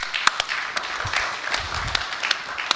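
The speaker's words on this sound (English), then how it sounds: "All right, hand of applause." A brief burst of audience applause at a startup pitch event on stage, steady scattered clapping from a moderate crowd heard close, with a few sharp individual claps standing out.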